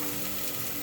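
Garlic sizzles as it fries in a pan for a batchoy, a steady close hiss of hot oil with no pauses or talking.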